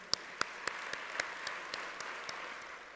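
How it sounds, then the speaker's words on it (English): Scattered, sparse clapping from a conference audience for panel speakers, a few distinct claps standing out over a faint roomy hiss rather than a full, dense ovation. "A big round of applause again."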